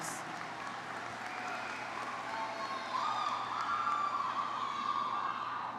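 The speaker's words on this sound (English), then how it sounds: "let's give these dynamic professionals a well-deserved round of applause." Graduation audience at a high school ceremony applauding faculty and staff, a broad wash of distant clapping with faint crowd murmur and a rising tone in the background, steady throughout.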